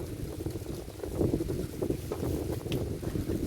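Wind buffets the microphone in low rumbling gusts, rising and falling against a faint watery background.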